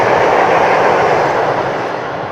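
An express electric commuter train out of Moscow thunders by close at Khrapunovo station, a loud steady rumble of wheels on rails that fades slightly as it moves off.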